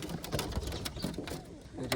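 Pigeons kept in a coop with chicks and eggs give soft, low, repeated cooing, close and fairly quiet, mixed with faint rustling and light background noise.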